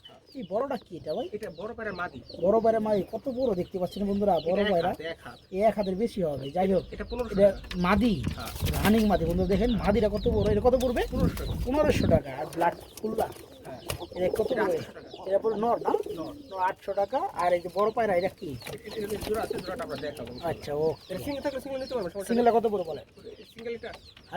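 Pigeons coo and flutter throughout, with people talking over them and a burst of louder rustling midway.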